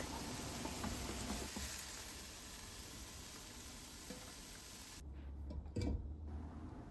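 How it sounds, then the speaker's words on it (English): Chicken sizzles and fries in a pan for yakisoba, a steady, bright hiss of hot oil that continues evenly, with a brief stir or clatter near the end. "Cook chicken about 4 to 5 minutes."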